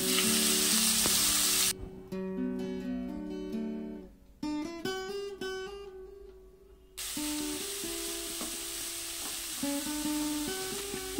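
Grated radish hits hot oil with a torn bay leaf and dried red chilli for a Bengali mooli ghonto, crackling and sizzling loudly, with tuneful background music playing over it and nearly alone in the middle.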